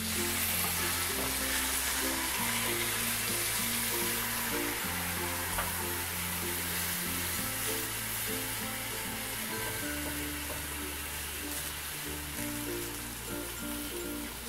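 Bacon and broccoli frittata sizzles steadily in a pan over medium-low heat, a dense, continuous close frying hiss with no talk, under a looping background music track.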